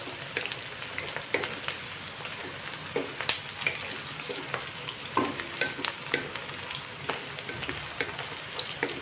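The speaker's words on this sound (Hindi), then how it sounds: "चम्मच आपने चलाते रहना है" Chicken curry ingredients with potatoes sizzle in a pan as a spoon keeps stirring them, a continuous close fry crackle with repeated scraping clicks in an uneven rhythm, and no speech.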